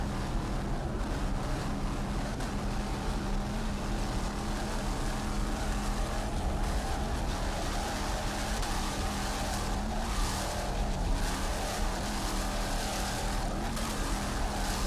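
A Mercury-powered 38-foot Skater offshore powerboat named Spider-Man races at an offshore grand prix in Savannah, its engines droning steadily and loudly throughout with wind and water noise mixed in.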